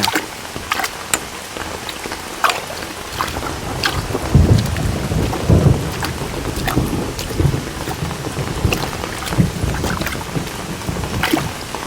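Steady rain pours down in a dense hiss while low, rolling thunder rumbles through beneath it, with no voices.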